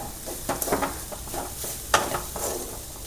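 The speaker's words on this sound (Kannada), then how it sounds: "ತಾಯಿ ತುರಿಯನ್ನು ಸ್ವಲ್ಪ ಹೊತ್ಕೊಳ್ಳುವ" Grated coconut frying and being stirred in a pan for Kundapura-style bangude saru, with a close sizzle broken by scraping stirs and light metallic knocks. No one speaks.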